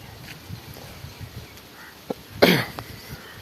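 A single short cough breaks a quiet background, preceded by a faint click or tap.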